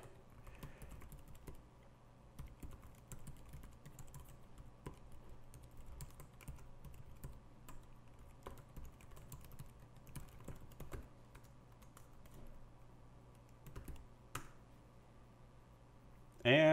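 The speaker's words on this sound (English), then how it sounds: "So let's see if I can type this right the first time." Typing a command on a computer keyboard gives faint, steady key clicks at an irregular pace against a quiet low hum, ending with a brief louder knock.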